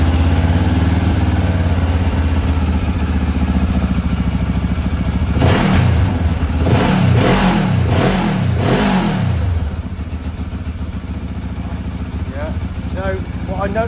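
A Benelli TRK 702 motorcycle engine idles, then revs up in a quick run of four or five rising and falling blips before settling back to a steady idle, loud and close.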